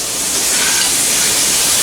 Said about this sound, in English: I'm frying chicken